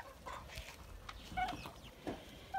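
Young turkey poults, under a year old, give a few faint chirps and peeps at a backyard poultry pen, scattered across a quiet outdoor background.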